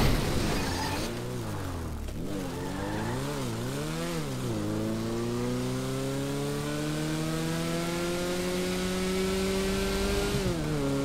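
Engine of an extremely slow, lightweight car in a video game, droning steadily and rising in pitch as it accelerates, with wavering revs early on before settling into a sustained climbing whine, loud and close with no talk.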